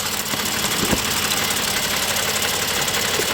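A car engine idles steadily and loudly up close, giving a continuous mechanical rumble and hum with a single brief knock early on and no talking.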